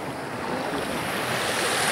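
Water rushes over a drop in a small taiga stream in autumn, a steady, close, broadband roar that holds evenly for two seconds with no voices.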